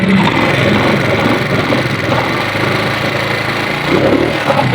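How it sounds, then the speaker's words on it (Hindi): A motorcycle with a cylinder head and rocker fault runs steadily at idle, a constant close, loud mechanical drone with rough tappety noise and no speech over it. "मैं आपको इसकी सबसे पहले आवाज़ सुनाता हूँ। तो मैं स्टार्ट करता हूँ बाइक को।"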